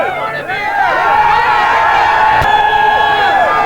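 A Dallas concert crowd at a 1994 show cheers and shouts in a loud, continuous roar of many voices, close and unbroken throughout.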